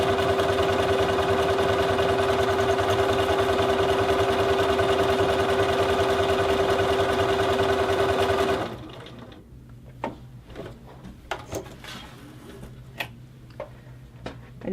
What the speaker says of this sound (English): drop the presser foot, and start my second buttonhole.